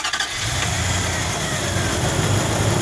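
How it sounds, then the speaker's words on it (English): A car or truck engine is started through a bypassed start switch wired to the positive and start-signal leads: a brief cranking stutter catches almost at once and settles into a steady, rumbling idle, loud and close, with no talking. "we can start the engine."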